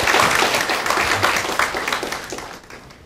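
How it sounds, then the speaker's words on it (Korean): A church congregation applauds together in thanks and praise during a worship service, dense clapping that fills the room and slowly fades over a few seconds, with no voices over it. "우리 하나님께 감사와 영광의 박수 드리겠습니다."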